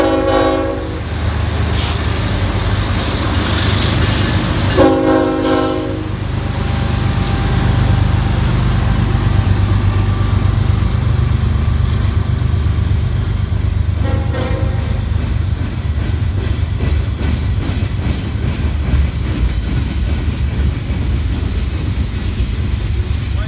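An eastbound Norfolk Southern freight manifest passes on the Pittsburgh Line at Cresson on a hot July day, its horn blaring in several blasts over a loud continuous rumble of rolling cars and wheel noise.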